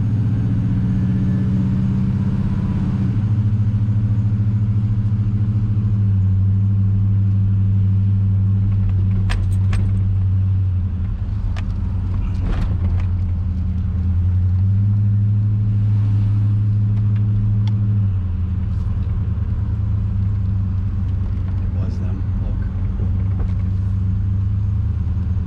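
Chevrolet Silverado pickup truck driving through a neighborhood, heard from inside as a loud steady low engine drone that shifts pitch with speed changes, with a few faint rattles and jingles.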